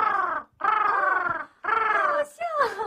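A Beijing Tianqiao vocal mimicry performer imitates a crow with a uvular throat sound, giving three loud harsh caws in quick succession, close and alone without other talk.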